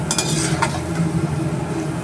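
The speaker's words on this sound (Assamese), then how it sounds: "এতিয়া মই এয়া ভাজি আছোঁ" Sliced raw banana, soaked in turmeric water, fries in a pan of oil with a steady sizzle and bubbling, and a few brighter stirring scrapes and clinks near the start.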